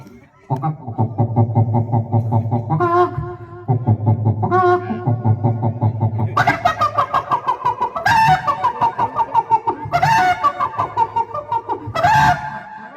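A person imitates a chicken, with drawn-out clucking and crowing-like calls repeated in bursts, loud and close.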